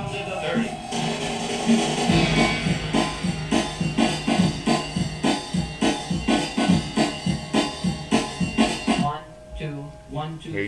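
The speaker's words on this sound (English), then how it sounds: "That is how you create a flange sound without using effects, just using two of the same tracks." Two identical DJ tracks played together with one pitched slightly off, giving a sweeping flange over a thumping beat that slows and thins near the end; loud and close.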